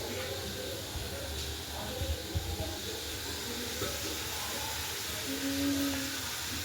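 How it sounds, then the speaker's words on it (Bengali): Potatoes frying in oil in a wok, a steady soft hiss and crackle running throughout with a faint low hum beneath, fairly quiet and continuous. "তো এখানে আমি কড়াইতে আলুগুলো একটুখানি ফ্রাই হচ্ছে"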